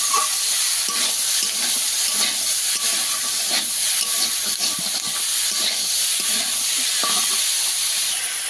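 Vegetables with salt and turmeric powder are sautéed in a pan over a village-style cooking fire, giving a constant loud hissing sizzle with faint rhythmic scraping of a spatula underneath and no talk.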